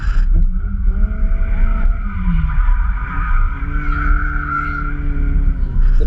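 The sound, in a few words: car drifting on a track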